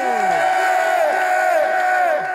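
A loud crowd at a musician's talk event shouts and cheers on cue, a continuous roar of yells and whoops filling the short burst.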